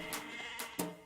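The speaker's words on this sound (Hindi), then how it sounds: "भेड़ बकरियां भी उतरेंगी।" Sheep and goats bleat in a few short, wavering cries over a steady background hum, moderately close and fairly faint.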